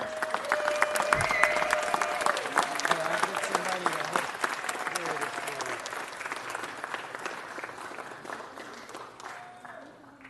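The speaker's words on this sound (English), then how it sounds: "One more round of applause." Sustained applause from the audience in a city council chamber, steady dense clapping that fades slightly toward the end, with some voices underneath.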